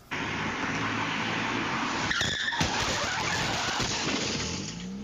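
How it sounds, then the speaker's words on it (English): Cars at an intersection where one runs a red light and slams into another, with a sustained roar of traffic noise and a burst of skidding and impact crunch midway through, loud and close, without any talking. "a driver accused of running a red light, hitting another car, and then driving away"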